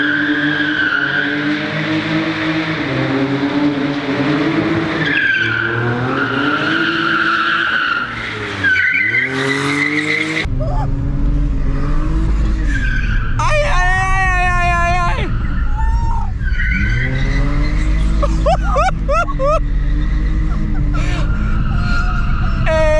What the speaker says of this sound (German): Wir driften und auch teilweise auf zwei Rädern.